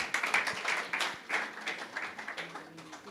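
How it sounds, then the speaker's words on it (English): Applause from a regional conference audience on forced migration, a busy patter of many hands clapping at moderate loudness, fairly close, with no voices heard. "Let's give them a bigger hand clap as they take back their seats."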